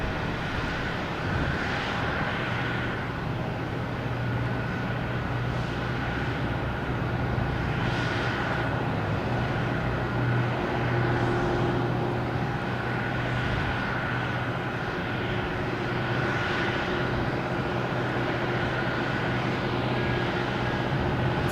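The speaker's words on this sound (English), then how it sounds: "Lufthansa A340 600. Get the gear down." A Lufthansa Airbus A340-600 airliner comes in to land at Boston Logan, heard as a moderate, steady engine drone with a faint whine, rising and falling slightly, somewhat distant and alone without talk.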